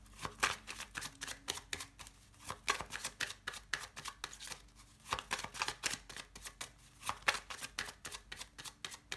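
Lenormand cards being shuffled and handled for a reading, soft repeated riffling and flicking in uneven bursts, close and quiet, with no talking.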